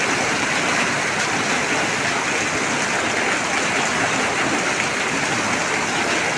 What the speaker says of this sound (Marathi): हे जे समोर पाणी पडतंय आहे ना पत्र्यावरून त्याचा जो जोत आहे ना तो जास्त आहे